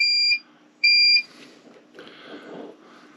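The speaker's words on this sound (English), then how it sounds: "it made the inverter beep" A power inverter wired to a battery in a small DIY solar setup gives two short, loud electronic beeps about half a second apart, followed by faint handling noise.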